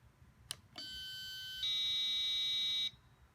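A sharp click, then an electronic doorbell alarm buzzer sounds and jumps to a louder, piercing high tone that holds steady for over a second before cutting off abruptly.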